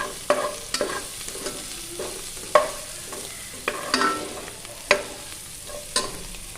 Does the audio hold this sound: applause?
no